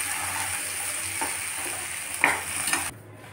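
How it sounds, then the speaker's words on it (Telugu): Sliced okra (bendakaya) frying in a pan for a Telugu-style vepudu, with a steady close sizzle and a few stirring scrapes before the sound cuts off near the end. "ఉంచి కాసేపు వేగనివ్వాలి. బెండకాయలు వేగినాయండి."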